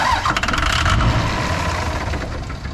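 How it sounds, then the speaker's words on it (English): A Cummins 5.9 diesel in a 2003-2007 pickup being cranked after fuel injector replacement, a brief loud grinding crank that catches and roars into a rough idle, close by. "So, all right, give it a crank."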